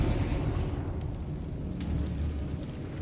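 A Confringo spell explodes during Hogwarts Legacy gameplay, giving a sustained low rumbling blast that stays loud and dense throughout, with no voices.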